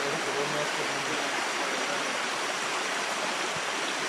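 River water flowing steadily in Costa Rican rainforest, a continuous broadband rush close by with no pauses or other sounds over it.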